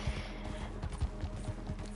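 Horse hoofbeats from riding in the video game Red Dead Redemption 2, a steady run of soft low thuds at close range over a faint background hum.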